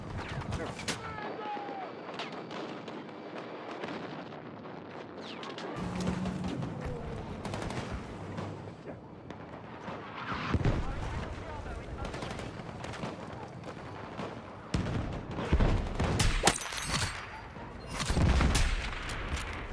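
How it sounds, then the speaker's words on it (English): Video game combat with bursts of gunfire and booming explosions, scattered irregular blasts and rattling shots rising and falling over several seconds, with a voice talking at times underneath. "So much explosions."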